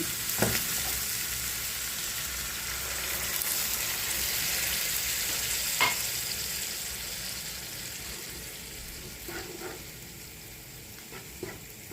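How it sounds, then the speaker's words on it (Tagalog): A glass of water is poured into a pan of frying beef mince curry with mixed vegetables, bringing a steady close sizzle and hiss with a few light stirring knocks, no talk over it. "maglagay tayo ng isang basong tubig"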